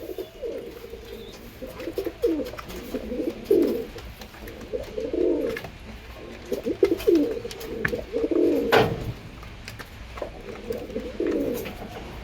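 Teddy breed pigeons and a Malawi pair cooing in repeated low, throaty bursts throughout, close and fairly loud, with a brief sharper sound near the end.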